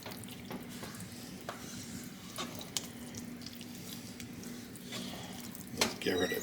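Pasta fagioli ingredients cooking down in a pot, a soft steady simmering hiss with scattered light clicks and bubbling pops, a faint voice murmuring in the background.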